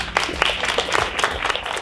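Brief burst of lively applause at a Cambridge English certificate ceremony in Plovdiv, many hands clapping close and continuously for a couple of seconds.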